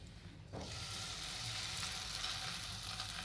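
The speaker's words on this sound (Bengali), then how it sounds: "এই যে চলো এই তিনটে ভেজে নিই" Parathas frying in a pan on a gas stove: after a brief quiet moment, a sudden burst of bright, steady sizzling rises and holds close by.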